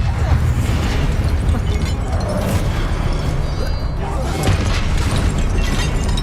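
Confringo blasting spells exploding in Hogwarts Legacy, a dense, continuous roar of booming blasts and crackling debris that stays loud throughout with no clear break.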